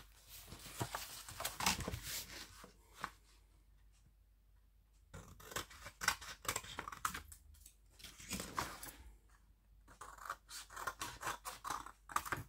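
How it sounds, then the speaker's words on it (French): Scissors snip through paper in bursts of close, crisp cuts with short pauses between, while gluing and corner work for a handmade photo album go on nearby. "Donc là, je viens couper mon papier."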